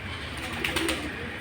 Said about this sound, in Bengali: আমার শখের কবুতর